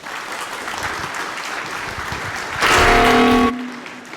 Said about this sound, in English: Please enjoy the talk with a round of applause for Dorota C.